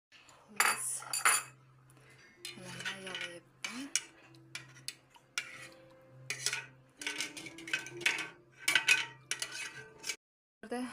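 A metal spoon clinks and scrapes against a pot while stirring yogurt starter into cream skimmed from boiled milk, irregular knocks and scrapes close by, with short pauses between bursts.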